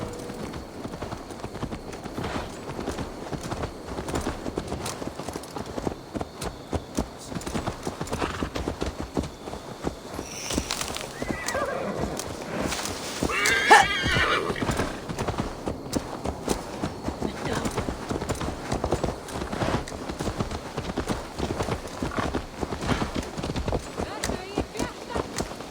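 Horse hooves clip-clop steadily through an Assassin's Creed Valhalla scene, a mount walking and trotting close by with an occasional whinny, while game voices talk over the ambience.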